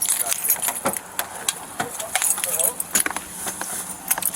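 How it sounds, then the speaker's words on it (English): Metal keys jangle in a loose ring as someone sorts through them to find one for a vehicle, with brief irregular rattles and clinks throughout, close by and moderately loud over background noise. "I'm going to go see if any of these keys go to that vehicle"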